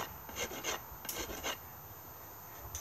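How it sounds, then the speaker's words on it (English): Short raspy rubbing strokes scrape across a wax-coated wooden staff in a quick irregular rhythm, close and fairly quiet, like sandpaper worked over wood. "we're gonna take some sanding to get through this"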